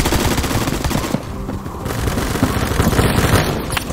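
Rapid, dense bursts of gunfire from a large pistol in the first-person shooter Phantom Forces, loud and continuous, with a brief lull before the shooting resumes.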